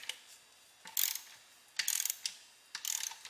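A torque wrench clicks sharply as beadlock bolts are tightened in a star pattern on Forgestar beadlock wheels for a Hellcat, giving three quiet, spaced bursts of mechanical clicks with no talk.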